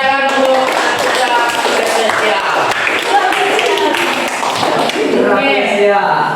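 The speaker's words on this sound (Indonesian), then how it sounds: "tepuk tangan untuk kita" An audience at an Islamic marriage seminar claps hands, with crisp irregular claps under a voice speaking throughout.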